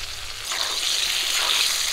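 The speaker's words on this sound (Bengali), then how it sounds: "বেগুনগুলো ভাজা হয়ে গেছে" Eggplant pieces frying in a pan give off a steady hissing sizzle that swells slightly louder midway and stays close and even to the end.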